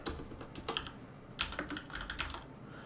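Quick, light clicks and taps of typing on a computer keyboard, an uneven burst of keystrokes heard up close with no talking.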